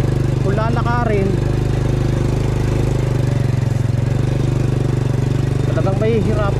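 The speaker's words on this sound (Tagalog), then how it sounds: "Pero yung motor hirap din dahil sa napakapangit na ng kalsada oh." A motorcycle engine labors steadily on a rough, badly broken mountain trail, a low continuous drone close by, with someone speaking over it at times.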